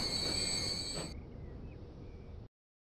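Train rolling in the Transport Fever game, a red fuel train entering a station: steady rumbling rail noise with a faint squeal, fairly loud at first and then quieter before cutting off abruptly, no talking.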